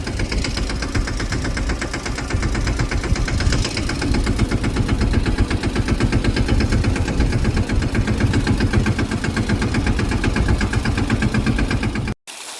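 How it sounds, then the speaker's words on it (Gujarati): A farm water pump motor runs steadily at close range, a loud continuous mechanical drone with a rapid knocking pulse, not letting up for the whole stretch before cutting off abruptly near the end. "જો આપણે મોટર ચાલુ કરી દીધી છે"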